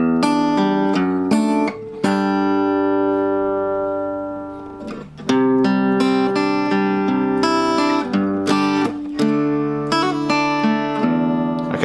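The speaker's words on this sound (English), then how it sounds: "So the whole riff will look and sound like this." An acoustic guitar plays a song's riff alone, with ringing open-string notes, hammered-on pitch changes and a sustained pause midway, loud and close with no talking.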